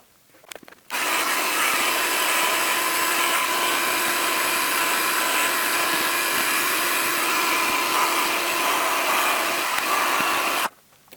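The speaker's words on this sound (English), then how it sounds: "let's get a heat gun and see what that does." A heat gun blows steadily on the casing of a Pye LV30, a continuous loud airy roar that starts abruptly after a short pause and runs unbroken for about ten seconds before cutting off.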